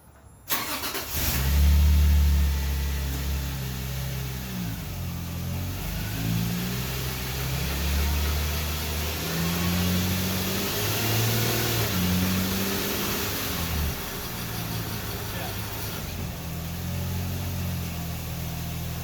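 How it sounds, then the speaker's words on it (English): A Subaru Outback H6 engine revs up and holds high with the rear tires off during an all-wheel-drive drivetrain vibration test, a loud, steady mechanical roar with rising and falling surges across the whole stretch. "The rear tires are off, so let's see if we get the vibration now."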